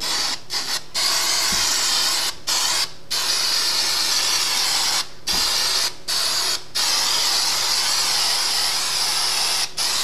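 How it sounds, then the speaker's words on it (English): Continuous hissing spray with several brief pauses, close and loud, running nearly the whole time in short bursts. "Make sure that you do spray it on liberally."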